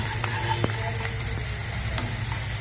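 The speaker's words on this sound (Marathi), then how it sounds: "कढीपत्ता, कांदा छान परतून घ्यायचा।" Curry leaves and onion sautéing in a pan, a continuous close sizzle with light stirring scrapes, no talking.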